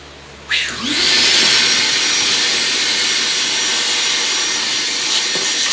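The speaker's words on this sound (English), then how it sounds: "Now we're going to try the vacuum." A vacuum cleaner switches on after a brief quiet moment, then runs steadily with a loud, even high-pitched whine and roar.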